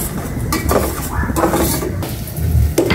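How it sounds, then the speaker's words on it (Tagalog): Chicken pieces hiss and sizzle in a hot pan while being cooked outdoors, with a steady close frying noise and a few scraping, stirring clatters of utensil against metal. "Lagay ko na po itong chicken ng mag-isa."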